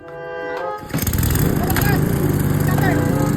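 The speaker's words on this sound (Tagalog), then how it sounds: "Kunin mo lang yung grass cutter" A grass cutter starts up loud and close after a brief hum, then runs steadily with a dense, rough engine drone and chopping rattle; people talk over the machine.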